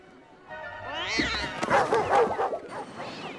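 A dog in a comedy movie scene gets flicked on the nose and yelps, then whimpers in high wavering cries, close and fairly loud, with a voice and other film sound mixed underneath.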